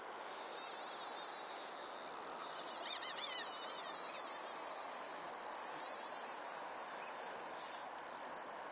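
Flies buzzing close on a camera lens during salmon fishing in Iceland, a continuous high insect whine with a few louder, nearer passes over a steady outdoor background.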